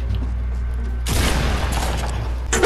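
A shotgun fires in a video game: one sharp, loud blast about a second in, followed by a noisy crackling decay and a fainter burst near the end, all heard close over steady background game sound.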